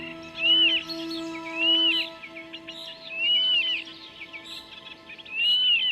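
A young bird calls in the water meadows by a river in late summer, giving a short run of thin, rising-and-falling cries at fairly even intervals, faint against a steady low hum.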